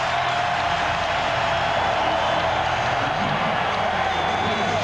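Arena crowd at the 2000 Western Conference Finals Game 7, Trail Blazers at Lakers, roaring during a Lakers run, a dense steady wall of cheering and noise that holds at full level throughout.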